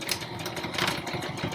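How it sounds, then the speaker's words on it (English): A sewing machine running steadily as it stitches the ends of a fabric surgical mask, a close, even mechanical whir with a fast rhythmic hum and no talking. "Go to your machine, line it up, make sure you're locking your stitches, and sew both ends"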